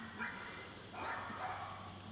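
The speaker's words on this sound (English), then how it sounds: "Dogs are barking." Dogs bark outdoors early on a Saturday morning, a few faint, distant yaps and bow-wows rising briefly over quiet ambient noise.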